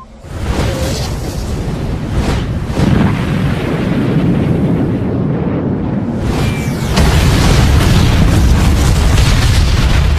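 Missile launch and explosion in an Ultraman Cosmos versus Justice battle, a sustained loud roaring blast with deep rumble filling the whole stretch, swelling again toward the end.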